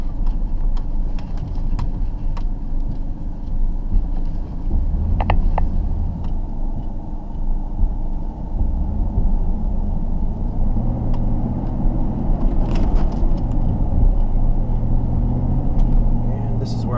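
A John Deere 326E skid steer's diesel engine rumbles steadily up close as it drives, with occasional mechanical clanks over the continuous drone.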